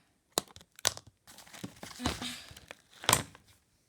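Cardboard and plastic packaging of a Monster High Shriekwrecked Gooliope Jellington doll box being handled, torn and cut, giving several sharp crinkles and crunches in separate bursts, close and alone.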